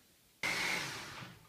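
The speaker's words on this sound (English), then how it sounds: "that's going into the blender to make our topping" A kitchen blender starts abruptly and runs steadily, mixing a raw vegan cashew cheesecake topping; a loud, close whirring motor with a high whine that eases slightly as it blends, heard alone.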